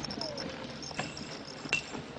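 Horse hooves clip-clop at a slow walk, a few light, hollow knocks over a soft outdoor background, fairly faint and close.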